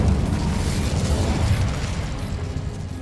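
A fiery Incendio spell goes off in Hogwarts Legacy, a loud low whooshing burst that rumbles for about two seconds and then fades into a softer crackling tail, with no talking over it.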